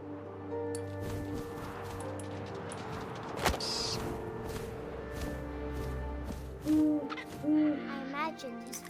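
An owl hoots twice near the end over a steady wind-and-ambience bed in the video game What Remains of Edith Finch. The calls are soft, low and fairly close.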